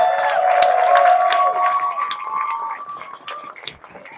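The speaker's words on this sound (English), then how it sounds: "can everybody just give yourselves and our athletes a huge round of applause?" Crowd at a Nashville SC Unified soccer match applauding and cheering, a steady wash of clapping with some whistling tones, fading slightly toward the end.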